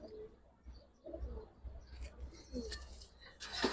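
Pigeons coo in a loft or pigeon market where breeders handle Giribaz and colored pigeons, including a laying female; soft, repeated low coos rise and fall across the stretch amid faint background bustle and scattered chirps.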